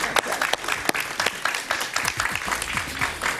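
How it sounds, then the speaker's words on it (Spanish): A television studio audience applauding a guest on a Spanish-language talk show, heard as loud, dense, continuous clapping close by without talking. "Sí, un aplauso para Rosa Townsend."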